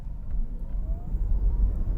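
A Tesla Model S Plaid accelerating hard from a standstill in sport mode gives a low, rumbling road and motor drone with a faint rising whine, steady throughout and with no voices.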